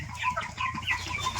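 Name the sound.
tiger chickens clucking on a farm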